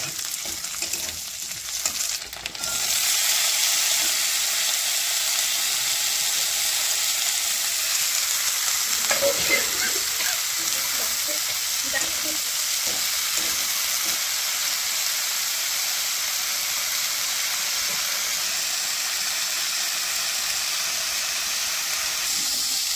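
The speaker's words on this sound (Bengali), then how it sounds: "শুটকি দিয়ে লাউ ডাটা ভাজা করবো" Bottle gourd stems frying with dried fish in a pan, a steady loud sizzle running throughout with occasional scraping stirs near the middle, no voices.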